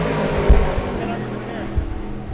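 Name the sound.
race cars on track at Sebring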